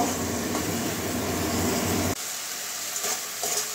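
Chopped pointed gourd and potato sautéing in a pan, a loud continuous sizzle that drops away suddenly partway through, leaving a faint hiss with light stirring clatter.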